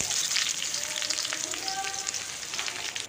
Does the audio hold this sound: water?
no